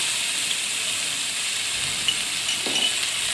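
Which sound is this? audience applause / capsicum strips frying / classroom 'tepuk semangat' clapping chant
capsicum strips frying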